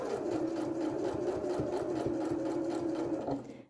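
Sewing machine stitching bag lining seams, a steady fast mechanical whir with rapid needle ticking, close and quiet, running continuously before slowing to a stop at the end.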